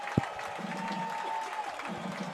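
A high school football stadium crowd roars in a steady, broad wash of cheering and applause, with one sharp clap standing out near the start.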